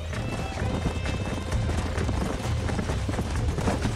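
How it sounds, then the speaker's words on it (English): Galloping horses from Red Dead Redemption thunder past in a dense, continuous drum of hoofbeats with a steady, churning rhythm, loud and close, while a voice talks over the herd. "There's the horses!"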